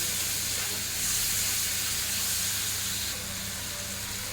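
Spice paste in hot oil for a spicy hilsa curry made without mustard or poppy seed, with water added, giving a steady broad hissing sizzle that eases slightly toward the end, heard alone without talk.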